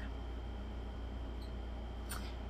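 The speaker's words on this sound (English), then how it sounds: "And she's squeaking her toy." A pet squeezes a squeaky toy, giving two brief, faint, high squeaks over a steady low background hum.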